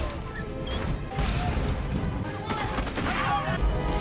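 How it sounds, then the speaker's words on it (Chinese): Cannon fire in a naval battle of the American Revolutionary War era: repeated booming blasts and crashes layered over a dense, rumbling din, with a voice narrating over it. "双方互相炮火攻击"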